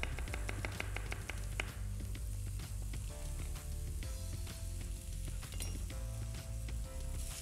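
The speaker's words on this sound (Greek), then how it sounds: "Σοτάρουμε καλά." Chopped onion and a garlic clove sauté in about two spoonfuls of olive oil, a loud continuous sizzle with quick stirring taps and light pan clinks close by.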